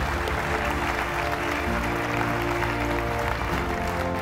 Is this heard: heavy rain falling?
no